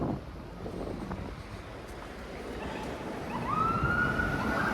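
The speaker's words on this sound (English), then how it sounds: "There's our second siren in as many minutes." A distant emergency siren rises faintly over steady wind and downtown Toronto street traffic rumble, growing a little clearer toward the end.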